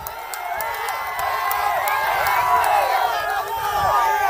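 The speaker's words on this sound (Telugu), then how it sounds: "ఇస్తున్నామంటే గట్టిగా చప్పట్లు కూడా చెప్పండి" At a political rally a large outdoor crowd cheers and whistles in a continuous loud roar, with scattered claps and shouts, and many voices talking within it.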